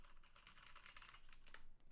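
A computer keyboard clatters under quick, light typing, a dense run of soft clicks captured faintly at close range with no talking.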